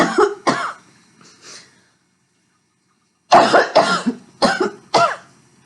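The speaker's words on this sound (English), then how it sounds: "I have a cough." Two harsh coughs come close up, then a pause, followed by a burst of four more rough, chesty coughs in quick succession.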